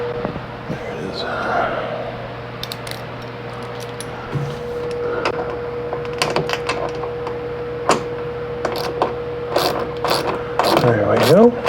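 A ratcheting wrench clicking as it turns a bearing on a BMS Sniper T-350 motorcycle's belt drive, with sharp metallic clicks and clinks close by over a steady mechanical hum, while someone talks.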